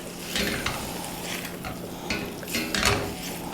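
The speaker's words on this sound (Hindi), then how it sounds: "अभी अच्छे से हमने मिक्स कर लिया" Brain fry masala being stirred and mixed in a pan, with spoon scrapes and knocks against the metal over a light sizzle, in irregular bursts.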